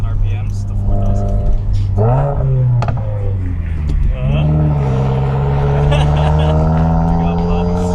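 A Subaru WRX fitted with a Nameless axleback exhaust revs up loud and close, its engine note rising and falling in drawn-out sweeps, with a couple of sharp pops in between.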